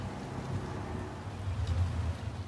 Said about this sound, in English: so it is raining and I am in the car right now